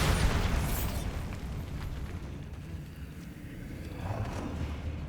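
A Bombarda blasting spell bursts in Hogwarts Legacy inside the Goblin Metal Repositories, a loud booming explosion up front that rumbles and decays into low debris noise, with a smaller burst near the end.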